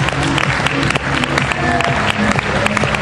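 Close, loud clapping from a middle school play audience, with several distinct nearby claps standing out over a dense crowd of applause and some voices mixed in.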